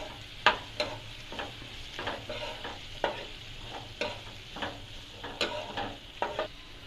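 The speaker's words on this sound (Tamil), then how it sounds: "கேரட், பீன்ஸ், இது நல்லா மிக்ஸ் பண்ணிக்கலாம்." Carrots and beans being stirred and fried in a pan for rava kichadi, with repeated scraping spoon strokes over a steady low sizzle, fairly quiet and close, no talking.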